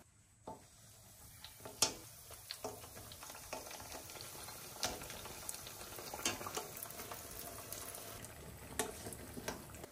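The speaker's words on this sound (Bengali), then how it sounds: "কড়াই সরিষার তেল দিয়েছি আর বড়িগুলো একে একে দিয়ে ভেজে নেব" Lentil badi frying in mustard oil in a wok, a quiet, steady crackle with scattered sharp pops and spatters through the whole stretch, no voices.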